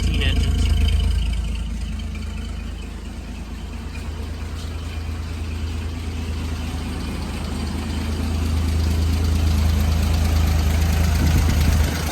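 A 1944 Dodge WC56 command car's flathead six-cylinder T214 engine idles with a steady low rumble, quiet and even with slight swells, running alone for about twelve seconds.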